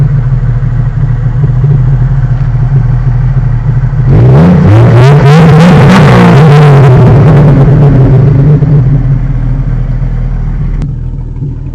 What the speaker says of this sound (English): it's mostly open exhaust with a cherry bomb cut in half and welded to the exhaust